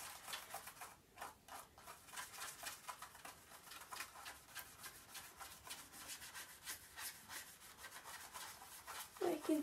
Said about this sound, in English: now I'm just going to start scrubbing it and I'm going to see if it comes off